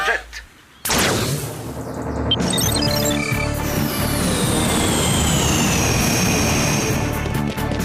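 A jet engine sound effect from the Totally Spies cartoon starts with a sudden loud burst, then becomes a sustained roaring whoosh with a high whine that slowly falls in pitch.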